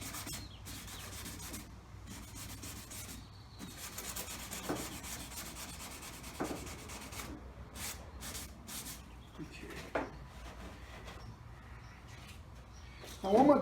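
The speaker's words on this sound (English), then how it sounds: "I started with that scouring pad" A scouring pad is rubbed by hand over a car's damaged clear coat in irregular scrubbing strokes, soft and close, with brief pauses and a louder scrape at the end.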